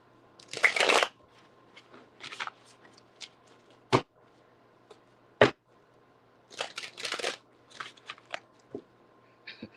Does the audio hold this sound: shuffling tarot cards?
yes